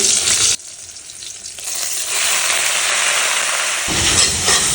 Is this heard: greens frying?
yes